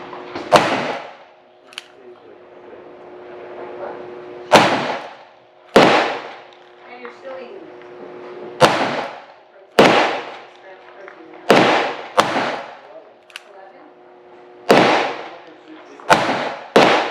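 A .44 Special revolver firing Lyman 429348 wadcutter loads on an outdoor range. Around a dozen sharp, loud single shots ring out at irregular intervals, each followed by a short decay, over a steady faint background hum.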